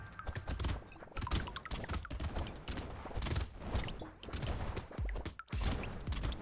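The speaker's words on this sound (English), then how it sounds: "that landmine was a huge explosion" Booming explosions from a landmine in the video game Brotato, a dense run of loud thuds and crashes repeating through the whole stretch amid constant gunfire-like game action, with no talking.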